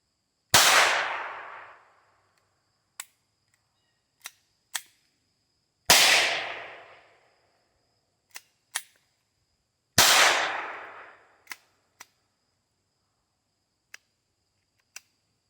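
Three loud Federal Game Shok .22 LR shotshell shots from a Walther P22 pistol, spaced several seconds apart, each followed by fainter metallic clicks and clacks of the action being worked between shots.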